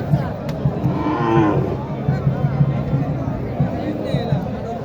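Cows at the Mataji cattle market in Naogaon, a loud moo early on amid crowd babble and people talking close by.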